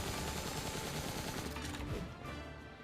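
Rapid machine gun fire from a huge robot enemy with two machine guns on its hand in NieR Replicant, a dense loud continuous rattle that eases slightly toward the end.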